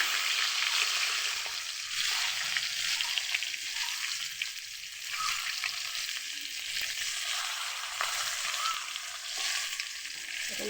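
Fish frying in oil in a pan, being browned whole before cooking with potatoes; a steady, dense sizzle and crackle runs throughout at even loudness with no talking.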